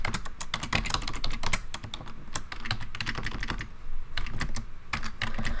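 Quick, uneven typing on a computer keyboard, with close, crisp key clicks in irregular bursts and brief pauses, heard alone.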